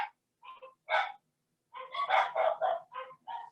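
Several dogs barking in short, close bursts at home, with irregular pauses between volleys.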